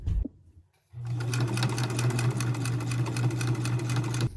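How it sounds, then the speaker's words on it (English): A sewing machine starts after a short pause and stitches in a rapid, steady mechanical whir, running continuously at close range to the end. "it's gripping your entire sewing machine"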